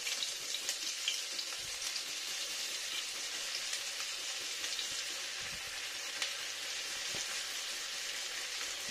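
Chopped ginger fries in white oil with a steady, dense sizzle and crackle that stays close and even throughout, with occasional soft knocks and no talking.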